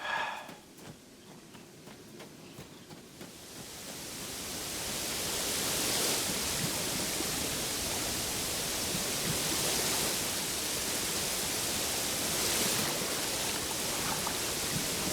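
A waterfall in the video game Uru: Complete Chronicles: a steady broadband rush of falling water that swells over the first few seconds, then holds constant and loud.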